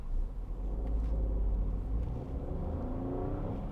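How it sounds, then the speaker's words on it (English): Citroen C3 Picasso 1.2 PureTech petrol engine driving on the road, a steady buzzy hum with low rumble throughout and pitch slowly rising as the car accelerates, heard from inside the cabin with no talking. "Just a nice buzzy sound from the Citroen engine"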